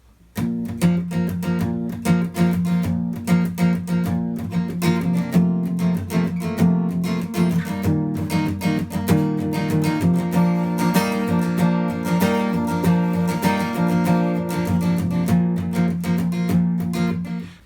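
Acoustic guitar playing a steady percussive groove for God So Loved, with palm muting and left-hand muting giving clipped, rhythmic chops over sustained chords, close and alone at even loudness.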